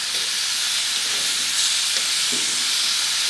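Glazed venison chops sizzling on a grill after being flipped, a steady close hiss and crackle filling the whole moment with no talk.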